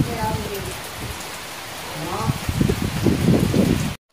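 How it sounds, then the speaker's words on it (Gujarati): Rain begins falling in a village, a steady patter on surfaces that thickens into a fuller hiss, with a voice talking over it. "જો વરસાદ ચાલુ થઈ ગયો"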